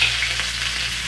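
Jerk chicken sizzles loudly in hot oil in a wok, a steady close-up frying hiss with no pauses and no talking.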